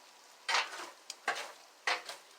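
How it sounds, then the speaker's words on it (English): Charcoal tossed around with tongs inside a Char-Griller smoker, three close scraping, clattering rustles with a small metallic tick between them, against near silence. "I am going to toss these coals around a little bit."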